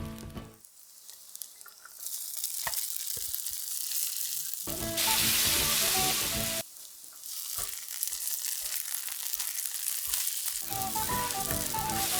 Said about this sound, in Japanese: 麺も炒めないと。